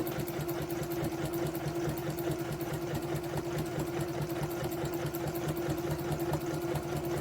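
Sewing machine stitching a quarter-inch seam on a garden apron made from scrap fabric, a continuous steady mechanical hum with a fast, even rhythm throughout.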